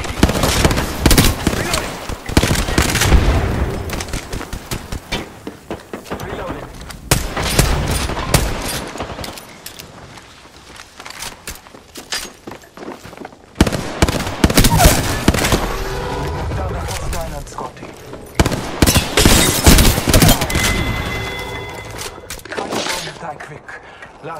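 Gunfire in Apex Legends comes in rapid automatic bursts and sustained volleys, loud and close, broken by brief lulls. Character voice lines play over the shooting.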